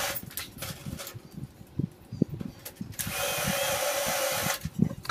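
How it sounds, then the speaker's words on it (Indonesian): A power drill drives self-drilling screws into hollow light-gauge steel for a sink stand frame, with short tapping bursts followed by a long, loud whirring run that rises near the end. "Ini kita kunci menggunakan baut pejaringnya"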